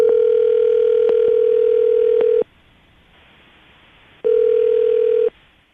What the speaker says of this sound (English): we're going to give her a call right now, see if we can get her on the phone